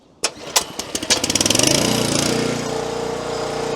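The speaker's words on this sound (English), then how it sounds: "Petrol engine, start it up, powers a hydraulic motor, and down the ram goes." A petrol engine on a hydraulic log splitter is pull-started. A few sharp cranking bursts catch and build into a steady, loud, close idle with no talking over it.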